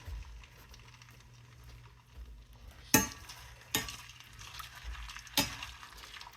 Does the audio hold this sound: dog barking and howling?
no